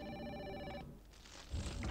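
A telephone rings with a harmonic bell-like trill in the Project Zero horror video game, sounding clearly for nearly a second before stopping, followed by low background noise and a soft thud.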